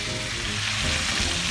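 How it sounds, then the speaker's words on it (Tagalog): Shrimp sizzle in garlic butter in a pan, a dense, steady frying hiss close up with faint stirring scrapes underneath, brief and uninterrupted. "Cook the shrimp until the color becomes orange"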